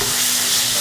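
Onion and chopped tomato sauté in a hot pan, giving a loud, steady sizzle with a scrape of stirring close up, no voices.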